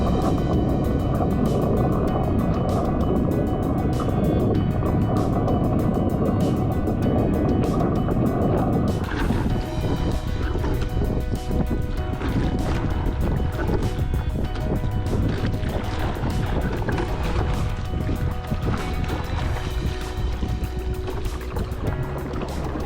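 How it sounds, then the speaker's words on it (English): A coastal rowing boat's bow crashes over rough waves at sea, throwing continuous splashing and rushing water with wind over a steady roar, loud and close throughout. "the bow is flying over the backs of some waves and creating a splash"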